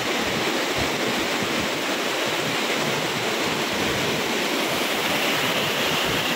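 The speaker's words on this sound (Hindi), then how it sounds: "ये वीडियो चट्टान का ऊपरी छोर का है जहाँ से पानी नीचे जाता है वाटरफॉल में" Tincha Waterfall near Indore in monsoon season, heard from the top of the rock ledge where the water pours over: a dense, steady roar of falling water, loud and unbroken throughout, with no voices.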